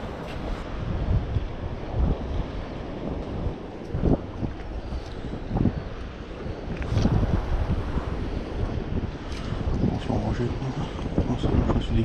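Gusty wind buffeting a microphone on the Breton seashore during sea fishing, with rolling surf underneath; irregular loud blasts rise and fall throughout, and someone talks at moments.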